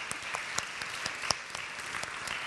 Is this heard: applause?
yes